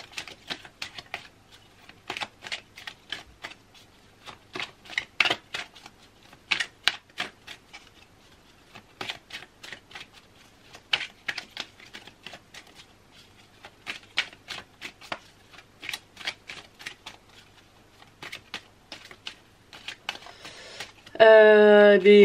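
Tarot cards are shuffled by hand in quick, crisp riffling bursts, repeated at an irregular rhythm for a long stretch. The cards are close and fairly loud, and a voice begins speaking at the very end.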